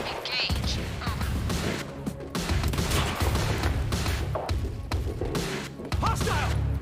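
Gunfire in the shooter Quantum Break comes as repeated bursts of shots with thuds and impacts. It is dense and fairly loud, broken by short gaps, and there is no talk.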